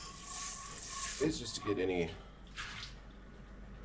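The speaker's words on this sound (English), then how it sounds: "We are going to take them over here and give them a drain and a rinse." Soaked beans are drained and rinsed under running water in a Japanese home kitchen, with splashing and trickling swelling at the middle and easing off, while a person talks over it.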